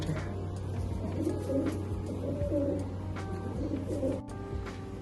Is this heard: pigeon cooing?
yes